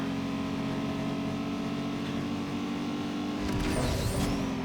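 Race car engines in Need for Speed Underground 2 drone and whine steadily, with a sharper burst of revving near the end.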